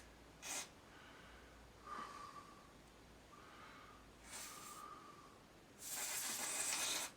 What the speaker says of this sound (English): spray it anywhere really